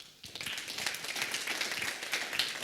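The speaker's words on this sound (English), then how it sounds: "Extra round of applause for that." Audience applause at an agricultural digital learning series session on space technology, dense steady clapping from a crowd after a presentation, continuous throughout without speech.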